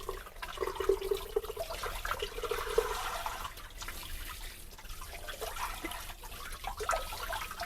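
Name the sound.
tap water rinsing pork shoulder roast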